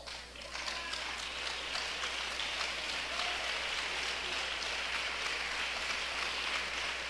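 Dense, steady applause rises after a brief quiet start at a national singles' church gathering and holds evenly, fairly soft and distant, without voices.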